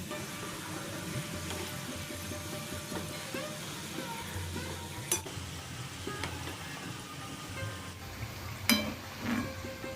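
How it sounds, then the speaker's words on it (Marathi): Jaggery-coconut modaks frying in hot oil on their second side, a steady low sizzle and bubbling with occasional clinks and stirring knocks, moderately faint and continuous. "चला आता दुस या मोदकाच्या दुसऱ्या बाजूनी पण आपण हे तळून घेऊया"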